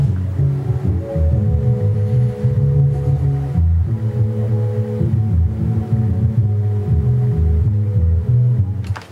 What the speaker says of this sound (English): you just put a low pass on the sample and then I lined it up with the other part of the sample